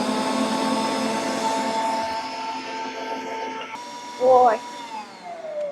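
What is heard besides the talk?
electric mixer whipping sour cream chocolate icing on high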